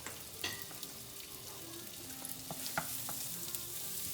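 Food with sage, paprika and red pepper flakes sizzles and fries in a pan while a spoon stirs and scrapes, with occasional clinks against the metal, fairly quiet and close.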